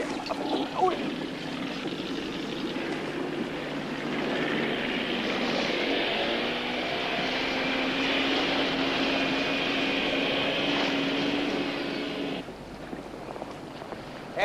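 A helicopter's steady whirring drone holds loud and continuous across most of the stretch, then drops away near the end, with a brief voice at the start.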